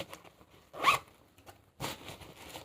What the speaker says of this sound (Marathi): याच्यामध्ये अजून एक मध्ये एक असं छोटासा आतमध्ये पाऊशी दिलेला आहे त्याला झिप आहे